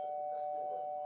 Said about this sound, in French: excusez-moi, c'est la sonnette